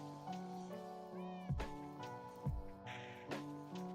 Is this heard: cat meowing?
yes